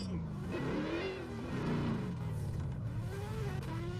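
Mustang drift car in a drifting sim game, engine revving with rising and falling pitch that bounces around as the car wobbles, loud and continuous under a voice talking.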